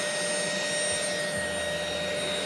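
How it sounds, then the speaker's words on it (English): A power carving tool grinds steadily into a wooden Canada goose decoy head and neck, cutting deep texture; a loud, continuous high whine holds throughout with no talking. "I'm actually carving in quite deep on this, deeper than I would on a real decorative, but then this is a decoy"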